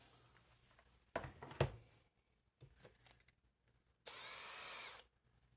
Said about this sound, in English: use the Milwaukee drill with the DeWalt bits